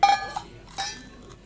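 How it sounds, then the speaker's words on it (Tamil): A metal vessel is picked up and set down while preparing caustic soda lye for homemade soap. There are two light metallic clinks, each with a brief ringing tail, close by with no talking. "அதுக்கு வந்து ஒரு பாத்திரம் எடுத்துக்கலாம்."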